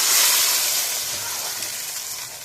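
Tomatoes hit browned onions in a hot pan, giving a bright, steady sizzle and hiss that fades slightly over a couple of seconds, close and without talk.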